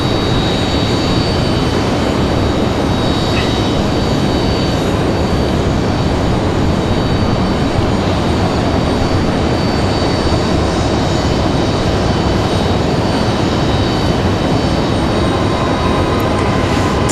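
A Spirit Airlines jet airplane at Raleigh-Durham International Airport makes a loud, steady, broadband engine roar that fills the whole stretch without a break, with no talk over it.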